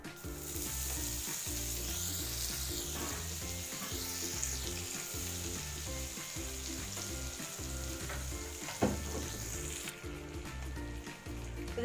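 Butter sizzles and crackles steadily as it melts in a frying pan for butter chicken, with a constant hiss running under a rhythmic background music track.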